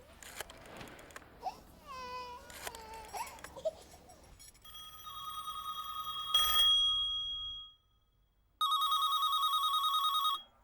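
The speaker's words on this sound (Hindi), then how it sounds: "एमपी के घर बेल जा रही है, लेकिन कोई फोन ही नहीं उठा रहा" Telephone at an MP's house ringing unanswered, repeated electronic ring bursts after a stretch of a baby's cries and babbling, the rings loud and close with a brief silent gap between them.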